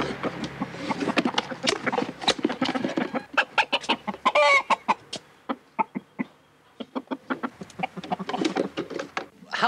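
A rooster in a carrying box at a Belgian cock-crowing competition clucks and squawks in rapid, irregular bursts, close and fairly loud, with a brief strained crowing-like call in the middle and no speech.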